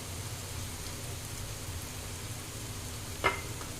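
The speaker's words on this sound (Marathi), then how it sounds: "यामध्ये आता आपण अद्रक लसूणची पेस्ट आहे ती टाकून घेणार आहोत।" Ginger-garlic paste frying in a pan for paneer butter masala, heard as a soft, even sizzle that hisses steadily throughout, with one brief clink near the end.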